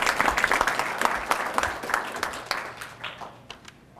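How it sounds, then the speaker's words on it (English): An audience at a police citizen recognition ceremony applauds award recipients with a dense round of clapping that gradually tapers off. "Go ahead and give them a clap."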